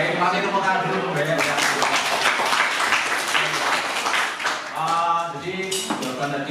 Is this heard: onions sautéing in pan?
no